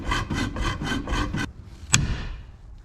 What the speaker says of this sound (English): You put the hacksaw blade through it like that, because you got to cut through the aluminum casing.